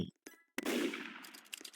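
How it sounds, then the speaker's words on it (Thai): A single sharp gunshot in the video game Murder Mystery 2 cracks out with a metallic ring, following a couple of faint clicks, then a brief crackling tail. "มีเสียงปืน ยิงแล้วทุกคน"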